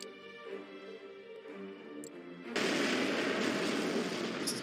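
In a Star Trek video game, the Enterprise-F's warp core detonates: a humming electronic tone gives way to a sudden loud, roaring blast that holds steady to the end.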